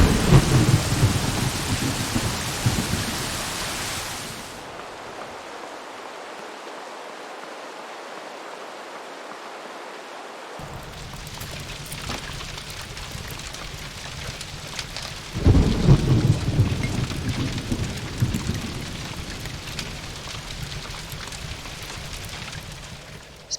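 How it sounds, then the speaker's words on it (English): A video game storm: heavy rain hisses steadily while deep rumbles of thunder roll in twice, loud at the start, easing to a softer downpour, then building again. "Storm is like rain but stronger, with different ambient sound and lightning flashing from time to time."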